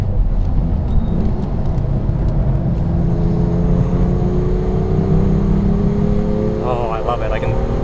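A BMW M2 accelerates hard out of a corner at Laguna Seca, a loud close engine roar rising steadily in pitch, with a voice talking over it.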